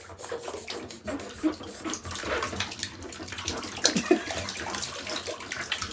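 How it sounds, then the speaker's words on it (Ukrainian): Water sloshes in a basin as a baby splashes during a bath, with steady rubbing and swishing that continues throughout and a few sharper splashes standing out. "І можна хлюпатись і хлюпатись. Повний таз води, да?"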